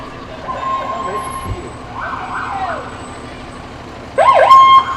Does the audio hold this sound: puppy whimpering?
no